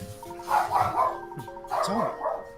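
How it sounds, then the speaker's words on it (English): A dog barking in the video game Professor Layton and the Unwound Future, a few short yappy barks over a steady game music background. "Excuse me, that's my dog."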